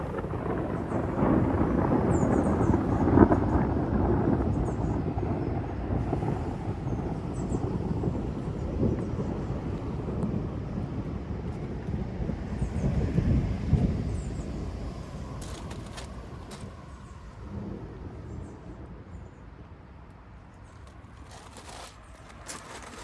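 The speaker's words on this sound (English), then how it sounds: "you can hear the thunder starting from the storm" Distant thunder from an approaching storm rolls as a low, rumbling wash outdoors by a garden wildlife pond, strongest early and easing away, with faint wind noise and no talking.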